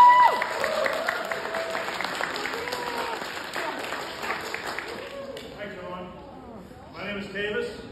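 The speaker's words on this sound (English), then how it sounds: "Give him a round of applause." Audience applause at an indoor fungi fair at a Polish cultural center in Wisconsin, steady clapping from a crowd for several seconds that thins and fades toward the end, with a voice over it.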